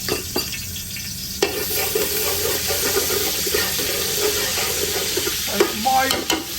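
Garlic ginger paste sizzles in hot oil on a powerful commercial cooker, a steady broadband hiss running throughout with occasional clinks and stirring scrapes.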